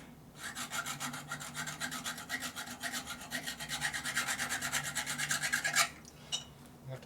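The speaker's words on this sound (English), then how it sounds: "So I'm trying to get this worn here, but it's not filing very well." A hand file rasps rapidly over a worn spot on a 1942 Harley-Davidson WLC 45 brake pedal assembly during restoration, a steady fast rhythm of close, loud strokes that stops abruptly near the end, followed by a few faint scrapes.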